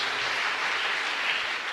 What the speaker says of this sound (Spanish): Fuerte aplauso para nuestra comunidad entonces.